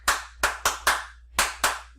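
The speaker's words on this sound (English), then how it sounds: "You clapped." Six sharp hand claps in an uneven rhythm, close and crisp, with a short gap between the fourth and fifth and no talk.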